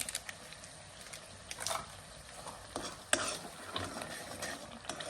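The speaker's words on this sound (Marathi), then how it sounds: "चांगल्या प्रकारे मिक्स करून घ्यायचे." Pav bhaji masala being stirred into cooked vegetables in a pan, with soft scraping and faint sizzling strokes repeating irregularly and close, no talking.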